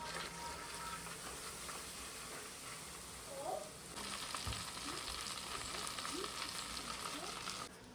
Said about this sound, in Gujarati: તેલ આપણું ફૂલ ગરમ થઈ ગયું છે ને હવે આપી દઈએ તેલનો વઘાર.